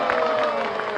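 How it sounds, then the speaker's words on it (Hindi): Audience at a dairy centre and gurukul school inauguration applauds to welcome the chief minister; steady crowd clapping with faint voices mixed in, moderately loud and continuous throughout. "सब जोरदार तालियों से स्वागत कीजिए"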